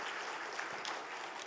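A church congregation at a Korean Sunday worship service claps in thanks, a brief, steady wash of applause at moderate volume that continues without a break.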